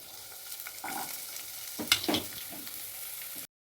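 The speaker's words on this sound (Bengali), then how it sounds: "তারপরে আমি এই পেঁয়াজ কুচিগুলো দিয়ে দিচ্ছি।" Chopped onions frying in a pan of hot oil, a soft steady sizzle with a few scraping stirs and clinks, close and moderately quiet, ending abruptly in silence.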